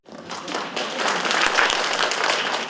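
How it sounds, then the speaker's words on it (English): Audience applause fills a panel session at a Taipei workshop on population ageing, a steady, dense crowd clapping that starts abruptly and holds at a full level throughout, with no voices over it. "Right, another round of applause."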